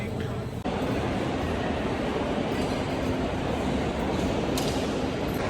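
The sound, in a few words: Delhi metro train to airport T3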